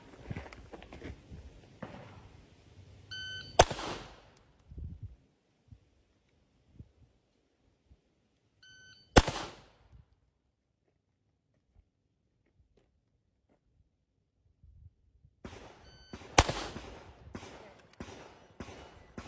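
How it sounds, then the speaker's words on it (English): Three sharp, abrupt pistol shots are fired at a target, spaced several seconds apart, with faint handling and movement sounds between them. "How long was that gun pointed there before I fired?"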